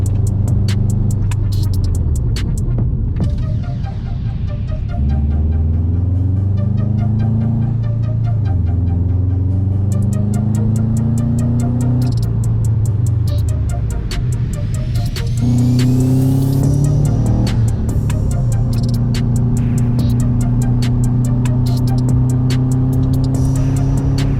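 A car drives steadily with a loud, close engine note that rises and falls through repeated accelerations and slowdowns, as it makes a series of stops from about 60 down to 15 mph to bed in new brake pads and rotors.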